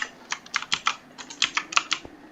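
Typing on a computer keyboard while entering Minecraft commands: a quick, uneven run of crisp close key clicks and taps, about a dozen strokes in a couple of seconds, with no voice over them.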